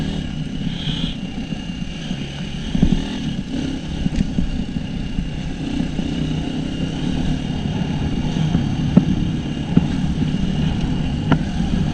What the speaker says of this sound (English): Seriously, low RPMs when it's grunting, this motor sounds like Chuck Norris's libido or something.